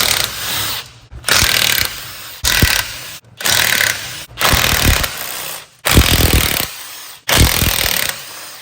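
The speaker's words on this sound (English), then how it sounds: "we're gonna go ahead and remove the bolts" Bolts being loosened one after another from a rear differential cover with a power tool, loud repeated bursts of about a second each separated by short pauses, close up, no talking.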